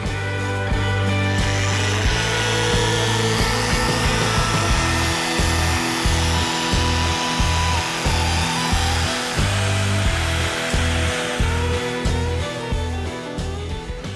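An electric polisher buffs wax on a 1990s Toyota Tacoma, a loud continuous whirring drone with a pulsing, rhythmic motor tone that runs steadily throughout.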